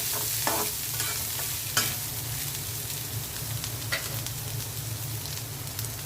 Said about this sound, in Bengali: মশলাটা একটু ভেজে নিলাম।